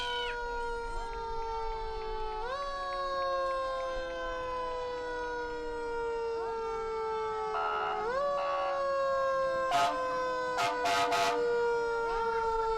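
A fire department vehicle siren wails in a Christmas parade, rising and falling in long sweeps at moderate distance, with a few brief sharp blips near the end and faint crowd noise beneath.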